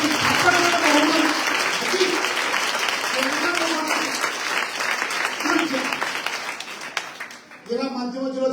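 A live audience applauds with sustained, dense clapping that fills most of the stretch, then breaks off briefly before a voice speaks near the end.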